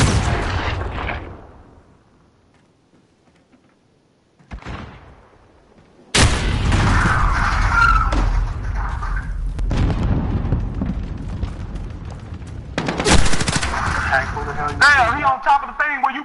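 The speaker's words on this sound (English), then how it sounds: "Here come that grenade." A video game battle erupts with a sudden heavy grenade blast followed by sustained loud gunfire and booming explosions, after a brief quiet lull, with a voice speaking at the start.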